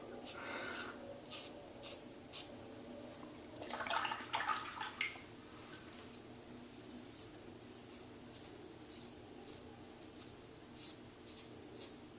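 A Norelco electric shaver keeps cutting stubble beside a water-filled sink, giving repeated short, crisp buzzing strokes close by, with a busier burst in the middle and no talking.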